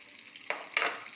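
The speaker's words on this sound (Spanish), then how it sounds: "Luego vamos a asar también zanahorias asaditas" Carrots roast in a hot pan with a soft steady sizzle, broken by two brief scraping stirs.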